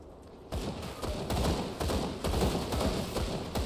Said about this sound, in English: Even the rifle shots,